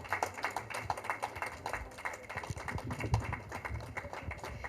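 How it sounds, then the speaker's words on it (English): Scattered clapping from an audience at an award ceremony in Mumbai, fairly quiet and uneven, with individual claps standing out rather than a full roar. "could we have the loud applause for her man?"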